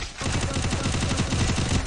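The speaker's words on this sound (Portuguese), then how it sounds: "um tiro, um tiro, um tiro, um tiro, um tiro" Rapid, continuous gunfire from a shooting video game, a dense string of loud shots in a fast rhythm filling the whole stretch without pause.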